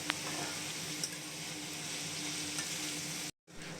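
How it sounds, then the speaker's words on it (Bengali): Onions frying over a high flame with cardamom and cloves, turned over in the pan: an even, close hiss of sizzling that briefly cuts out near the end. "পেঁয়াজটা গ্যাস জোরে দিয়ে একটু দু তিন মিনিটের জন্য উল্টে পাল্টে নিচ্ছি"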